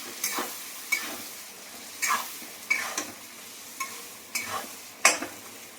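A spoon scrapes and stirs fish curry with raw banana, chili powder and salt in a pan, giving about seven distinct scraping strokes at uneven intervals. A faint sizzle sits underneath, and no one speaks.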